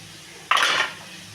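Beans tipped into a cooking pan already holding diced carrots for egg fried rice, a single brief rattling pour of about a third of a second, close and fairly loud, with no talking.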